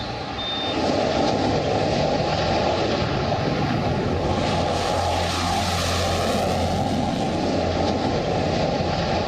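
Chinese fighter jets fly overhead with a continuous, loud engine roar that swells slightly midway and stays unbroken to the end, with no one speaking.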